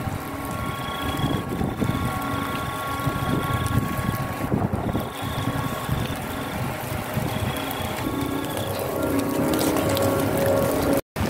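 A boat out on the water in strong wind and rain, with a steady low engine-like drone, whooshing wind buffeting the microphone and faint tonal hums, continuous throughout and ending in a brief cutoff.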